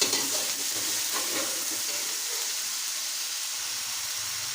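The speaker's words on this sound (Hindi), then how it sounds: "अदरक लहसुन का पेस्ट अच्छी तरह मैंने इसको भून लिया।" Ginger garlic paste with a little water frying in a pan while being stirred, a steady close sizzle with faint scraping strokes through the first part, settling into an even hiss.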